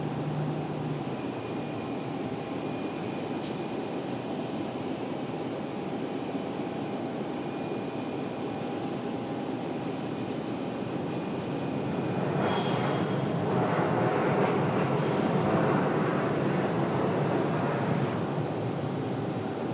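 A CRJ regional jet arriving from JFK lands at RDU with a broad, steady roar and a faint whine that swells louder near the end. No voices are heard.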